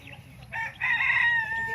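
A rooster crows in a chicken coop on a garden plot, one drawn-out call rising and holding for about a second, close and clear over a faint background of other chickens.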